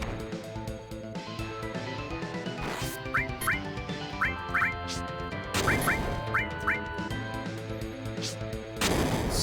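Grenade blasts go off in a Final Fantasy game battle, a series of sharp crashing explosions over a looping in-game music track, with quick chirping effects between hits.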